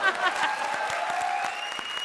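Rhythmic clapping on a comedy stage show, a short run of distinct claps over a sustained musical tone, with voices faintly in the background.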